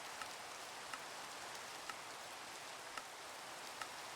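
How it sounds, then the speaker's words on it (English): Steady game rain in a Minecraft-style world hisses evenly throughout, quiet and constant, with a few faint soft ticks standing out at regular intervals. "I do apologise for the rain, but nothing I can do about it right now."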